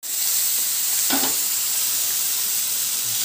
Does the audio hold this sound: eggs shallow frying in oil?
yes